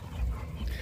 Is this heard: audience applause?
no